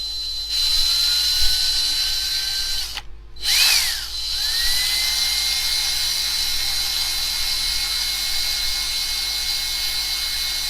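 A small power drill bores into a Corgi 220 Chevrolet Impala die-cast model car, a loud, close, high whine that cuts out briefly around three seconds, spins back up, then runs steadily.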